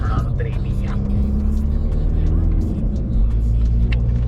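An Oldsmobile V8 engine revs and roars nearby, rising and falling in pitch, with some background voices underneath.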